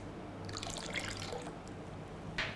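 Thin trickle and drips of lemon juice falling into cooled homemade jamun sharbat, faint and close, with light splashy patter against a quiet background.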